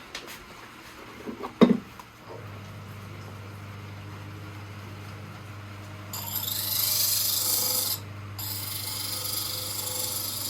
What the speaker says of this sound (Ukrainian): Беремо наш наждачок.